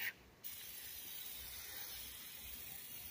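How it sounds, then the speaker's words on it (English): Foaming engine cleaner sprays steadily from an aerosol can onto a car engine, a continuous close hiss after a brief opening burst and pause. "Spray it all over your engine."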